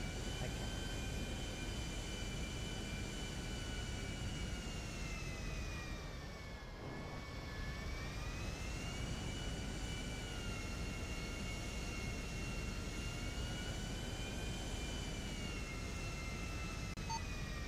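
A jet airliner in a video game descends toward an Arctic runway, its engine a steady, loud, continuous whine and roar that dips briefly midway, with faint voices underneath.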